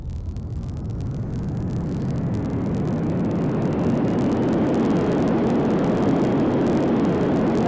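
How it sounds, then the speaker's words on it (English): A loud model airplane engine starts up and runs, a dense roaring buzz that rises steadily in level and stays up close, with no talk over it. "this plane is just really loud"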